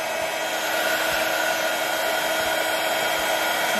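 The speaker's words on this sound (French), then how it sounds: "Là, je coupe mon heat gun." A heat gun blows steadily, melting embossing powder on an enamelled plaque: a continuous close whooshing roar with a faint electrical hum, running unchanged from start to finish with no talk.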